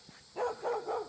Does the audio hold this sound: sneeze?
no